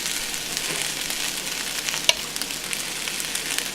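Butter sizzling in a hot pan for egg fried rice makes a loud, continuous frying hiss, with a single sharp tap partway through and faint stirring scrapes.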